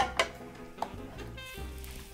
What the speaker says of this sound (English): we'll let that go ahead and saute for a little bit